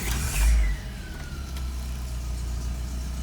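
Cold 1963 Volvo PV544 B18 Sport fires up with a brief loud burst, then settles into a steady, moderately loud idle that runs on without talk.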